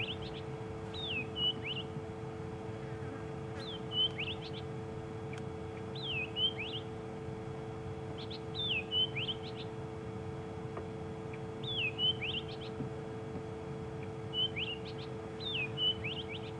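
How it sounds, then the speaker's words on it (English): A wild bird of unidentified species calls repeatedly on a safari drive at sunset, short whistled phrases spaced every two seconds or so, moderately distant over a steady engine-like hum. "So Gada, you would like to know what bird is currently calling"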